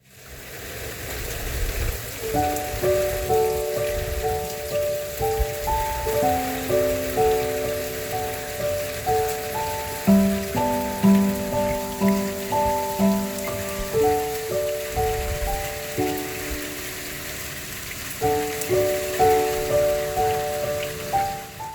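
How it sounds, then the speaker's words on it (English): Steady rain hisses beneath a gentle, prominent musical melody, a continuous broadband patter that runs under the music from start to finish with no speech. "The following day it rained most of the day again"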